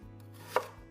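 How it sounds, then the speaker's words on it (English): A single crisp knife chop through apples on a cutting board, one sharp close knock amid an otherwise quiet kitchen. "Just kind of give them just really a rough chop."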